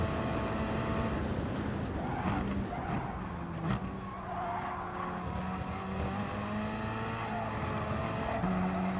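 Gr.3 Alfa Romeo race car in Gran Turismo Sport at the Catalunya circuit, its engine droning steadily and loudly throughout with rising and falling harmonic tones as it shifts and accelerates, plus a brief tire squeal, no voices.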